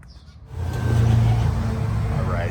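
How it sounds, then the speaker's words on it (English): A 1998 Acura Integra starts moving, its engine note rising from quiet into a steady, fairly close low drone that holds to the end. "so here goes the Integra"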